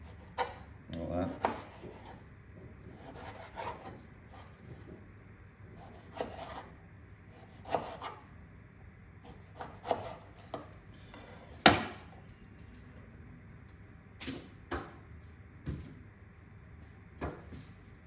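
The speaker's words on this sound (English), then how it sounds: "Beautiful red beetroot. And then just cut them into little wedges." A knife cutting red beetroot into little wedges on a board: scattered sharp chops and taps spread across the stretch, some close and crisp, others softer, with quiet pauses and faint background rumble between them.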